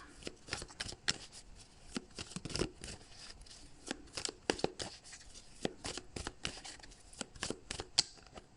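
A tarot deck is shuffled by hand, making quick, crisp card flicks and riffles in irregular bursts. The sound is close but fairly quiet and continues without speech.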